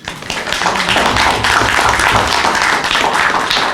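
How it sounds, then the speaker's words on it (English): At a college pitch competition event, an audience breaks into a steady round of applause, many hands clapping densely and fairly loudly for a few seconds with no talk over it. "Let's give a round of applause."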